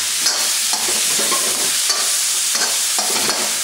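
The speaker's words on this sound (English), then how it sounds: "Saute them only for a few seconds with your bamboo shoots." Mushrooms and bamboo shoots being stir-fried in a hot pan for hot and sour soup, a steady loud sizzle with quick stirring scrapes running throughout, close and without talk.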